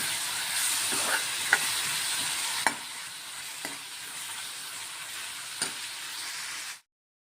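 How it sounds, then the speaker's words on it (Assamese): Continuous sizzling of paneer frying in a pan, a steady hiss broken by a few sharp clicks of a spatula, fairly close. "পনীৰ ফ্ৰাই কৰিছোঁ"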